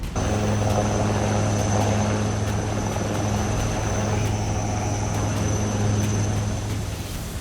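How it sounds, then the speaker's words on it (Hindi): An army helicopter landing on an old building's rooftop during a flood rescue, its rotor and engine roaring loud and steady throughout with a constant whine and droning hum. "सेना के जाबाज हेलीकॉप्टर लेकर छत पर उतरे और बचाव अभियान शुरू किया।"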